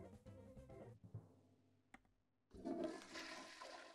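A toilet flushes in the video game Cook, Serve, Delicious!, with a brief clunk followed by a loud surging rush of water that swells and keeps running; no voices are heard over it.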